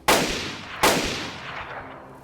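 Two loud gunshots in the video game DayZ, a fraction of a second apart, each followed by a long echoing decay.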